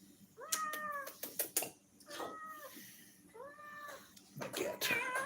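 A house cat meows close by in an indoor livestream setting: several distinct, drawn-out meows spaced a second or so apart, mixed with light clattering and handling noises, with no talking.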